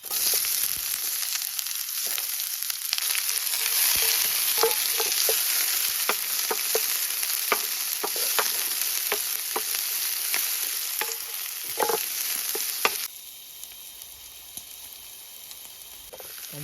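Garlic fries in a pan, a steady close sizzle with stirring scrapes and clinks throughout, then it drops to a quieter hiss near the end. The cooking is outdoors beneath a rock shelter on a hillside.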